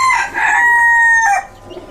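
Bantam chicken crowing on a Kerala farm: a single loud, close crow with a bright sustained middle note and a dropping tail, alone.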